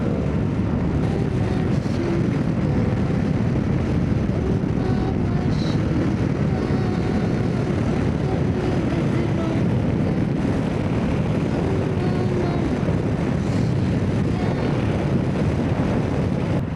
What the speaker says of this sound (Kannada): ಈ ವಿಂಡ್ ಬ್ಲಾಸ್ಟು ಹೆವಿ, ಗಾಡಿನೇ ನೂಕಾಡ್ತೈತೆ ಅವಾಗಿಂದ